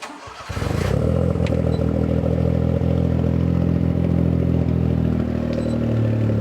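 A Perodua Kancil car engine cranks and catches after a brief clatter, then settles into a loud, steady, buzzy idle close by, with no talking.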